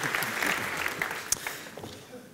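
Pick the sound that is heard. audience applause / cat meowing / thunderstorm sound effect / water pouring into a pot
audience applause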